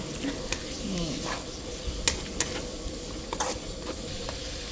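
Pork belly stir-fries in a wok with chili, a steady sizzle punctuated by sharp scrapes and clicks of a utensil against the pan.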